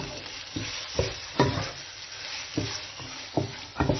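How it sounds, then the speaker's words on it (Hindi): Ground ginger and garlic frying with spices in a pan, with quiet steady sizzling broken by several sharp stirring scrapes at irregular intervals, close and moderately loud with no talk. "अदरक लहसुन जो मैंने ग्राइंड किया हुआ था, और हम इसको फ्राई करेंगे।"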